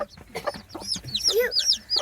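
Chickens squabble at close range, with agitated clucks and rising squawks piling up and growing louder toward the end.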